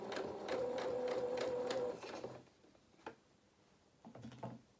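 Domestic sewing machine stitching a seam on a small fabric cat's head toy, running in a steady close whir for about two seconds, then stopping, followed by faint handling clicks and rustles.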